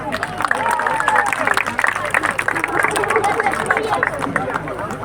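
Festival crowd at a cucumber festival performance applauding and cheering after a singer's set, a steady dense clatter of clapping mixed with crowd babble and a voice over it.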